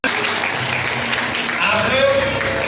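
Audience applause welcoming Yuvraj Singh and Jyoti onto the stage at a Chero tribal community event, a steady wash of clapping that swells slightly partway through, with voices mixed in.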